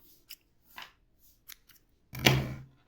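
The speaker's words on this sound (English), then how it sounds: "You fasten and cut your yarn." Scissors snip yarn after crocheting, with a few faint clicks of the blades opening and closing followed by one louder, close cut.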